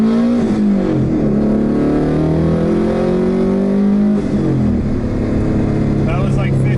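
A turbocharged, LS-swapped Mazda FC RX-7 pulls hard under load, its engine note climbing through rising revs, easing off at a shift near four seconds, then building again, loud and close inside the car.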